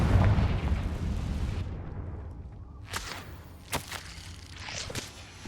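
A Confringo fire spell explodes in Hogwarts Legacy: a loud, rumbling blast fades over about two seconds, followed by a few short, sharp impact cracks and scuffs at lower level.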